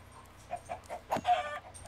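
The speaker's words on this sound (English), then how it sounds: "I'm actually going to kill this chicken too." A chicken in Minecraft clucks softly several times in quick, uneven bursts, faint and alone with no talk over it.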